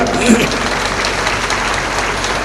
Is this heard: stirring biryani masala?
no